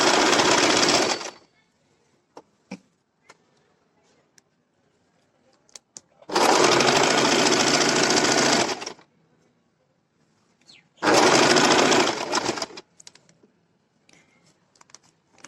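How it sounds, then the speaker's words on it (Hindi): A sewing machine runs straight stitching along a kurti, three separate bursts of close, steady whirring with quiet pauses and small handling clicks between them. "अब हम इसकी सीधी सिलाई करते हैं।"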